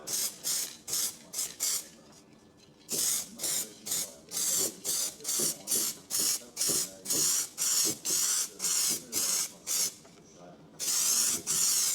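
Copper-coloured coating is sprayed onto the weld joints of a classic car's replacement floor in a rapid run of short hissing bursts. After a brief pause the regular spurts carry on and end in one longer spray, close and loud.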